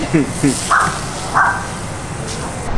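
A dog at an outdoor dog park gives a few short, close barks and yips in the first second and a half, followed by quieter ambient noise.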